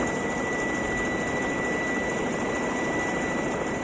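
A rescue helicopter flying a finger-amputation patient to a hospital produces a steady, loud, continuous rotor and engine drone with a constant high whine, unbroken throughout and without voices.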